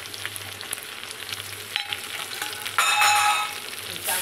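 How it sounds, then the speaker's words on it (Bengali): Potato pieces fry in hot oil with cumin seeds and bay leaf, giving a steady close sizzle that swells into louder crackling spitting near the end, with no talk. "ওই যে কয়েক টুকরো আলু দিয়ে দিলাম,"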